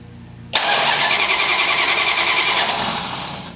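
A Plymouth engine fitted with FiTech fuel injection cranks and catches, a sudden loud burst after half a second of quiet that settles into a continuous rough running roar, close up with no talking.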